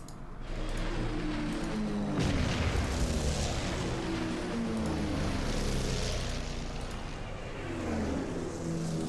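Rumbling explosions and a droning roar as bombers strike a bunker in the strategy game Order of Battle, Winter War in Lapland, a steady loud wash of blasts with no voices.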